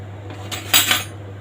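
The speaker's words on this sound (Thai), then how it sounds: "ใช้ทัพพีแบนๆตักจะได้เห็นง่ายๆนี่" A flat ladle scoops pork bones and bitter melon from a pot of soup, giving a short metallic clink and scrape against the pot's rim, with a steady low hum underneath.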